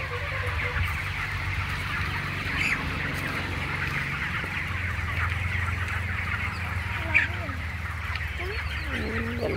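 Hens in a village yard cluck and honk steadily in the near background, with a few sharper calls rising above a constant low murmur of farmyard noise.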